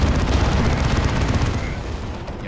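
In the Dawn of War 2 game, a Stormlord tank fires a dense, loud barrage of rapid booming shots with heavy low-end rumble, continuing steadily before easing slightly at the end.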